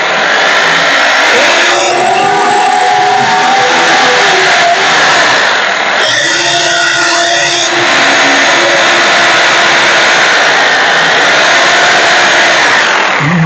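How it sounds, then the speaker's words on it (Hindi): An electric drill machine bores mounting holes for an RO water purifier, running loud and close with a continuous high whine over several bursts across the stretch. "आप अपने ड्रिल मशीन की सहायता से जहां आपने मार्क किया है वहां पर आपको क्या करना है, ड्रिल कर लेना है"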